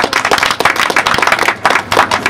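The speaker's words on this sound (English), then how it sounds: "You should give yourself a round of applause" An audience gives a round of applause: dense, close, steady clapping from many hands, with slight swells in loudness throughout.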